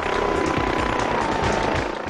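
Toy radio-controlled helicopter flying in the video game Radio Helicopter 2, a steady, loud buzzing rotor drone with a faint tonal hum, continuous throughout with no talk.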